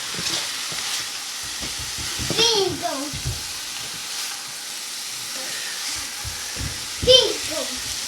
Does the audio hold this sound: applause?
no